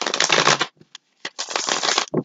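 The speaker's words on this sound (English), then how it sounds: "One more shuffle." A deck of tarot cards being shuffled by hand, with two bursts of dense riffling and flicking close up, separated by a short pause with a few light taps, then a final brief ruffle.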